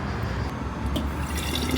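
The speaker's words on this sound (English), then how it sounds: "there's a lot of water fountains, free water fountains that are placed around the city" Water runs steadily from a free public drinking fountain on a street in Rome, a soft trickling splash with small drips, heard close and fairly quiet.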